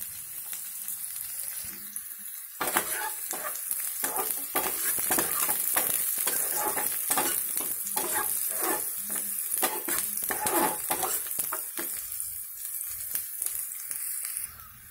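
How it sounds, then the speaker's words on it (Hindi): Green chilies fry in hot oil in a pan while being stirred for a chaat masala, giving a steady loud sizzle broken by repeated scraping strokes of the spoon, with no talking. "इसके अंदर कच्चा मिर्ची को डालिए। थोड़ा फ्राई होने दीजिए।"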